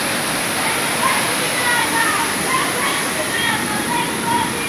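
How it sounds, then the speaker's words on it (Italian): Heavy rain floodwater pours steadily into a garage on a flooded street in Jesi, Italy, making a continuous loud rushing and splashing roar with no break. "Perché gli va tutta l'acqua dentro il garage."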